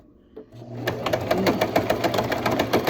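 A sewing machine stitches along a folded fabric seam. It starts after a short quiet pause and then runs in a fast, steady mechanical rhythm, loud and close, with no voices.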